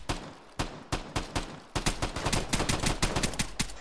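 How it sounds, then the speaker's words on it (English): Video game gunfire rings out in sharp repeated shots, spaced single bursts at first and then a dense rapid volley of automatic fire, loud and close with no talking. "he's still just shooting at nothing"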